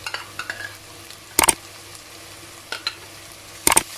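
Ground green chillies are stirred into frying palak curry. A soft background sizzle runs beneath a few sharp, close clinks and scrapes of a spoon against the pan.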